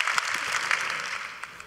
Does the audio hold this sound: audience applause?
yes